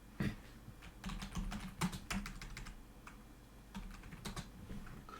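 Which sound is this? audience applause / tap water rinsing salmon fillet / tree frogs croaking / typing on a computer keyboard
typing on a computer keyboard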